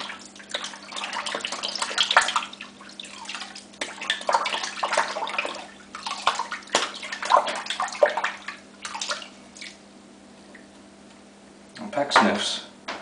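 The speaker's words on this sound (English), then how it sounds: "Let this evaporate for a second while I rinse my brush" A shaving brush is rinsed under a running tap, producing uneven splashing and sloshing water bursts over a low steady hum, with a brief pause before a final splash.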